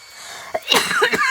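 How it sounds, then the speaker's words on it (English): One abrupt cough, near and fairly loud, with a sharp burst of breath before a short rough tail, alone and with no speech. "Whenever I go live or do a voiceover, I tend to cough."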